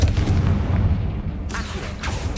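Confringo explosion spell in the video game Hogwarts Legacy: a loud, deep booming blast rolls out at the start and fades, followed by a couple of sharper pops.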